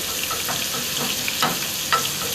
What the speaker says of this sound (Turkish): Bütün ızgara da böyle ufak ufak pişiyor